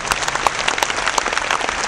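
An audience applauds for a speaker at a talk, dense continuous clapping throughout, loud and close, with no voices over it.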